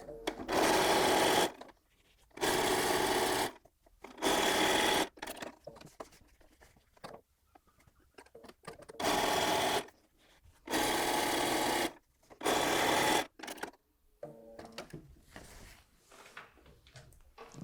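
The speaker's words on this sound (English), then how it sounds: "I'm going back to the machine and I'm now going to join 2 more strips" Sewing machine stitching quilt strips together for a jelly roll quilt, running in five loud, steady bursts of one to two seconds each, separated by quieter pauses with faint handling noises.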